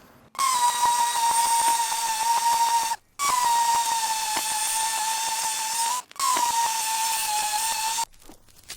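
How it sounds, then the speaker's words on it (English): A fine dual-action sander works on a chrome part from a 50cc moped, a loud, close, high-pitched whine running in three sustained bursts separated by short pauses. "then hit this with a fine DA sander"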